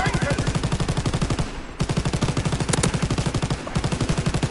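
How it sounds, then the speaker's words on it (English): A rapid machine gun in Call of Duty fires long, evenly rhythmic bursts, loud and close, broken by two short pauses before firing resumes. "because you're using a machine gun"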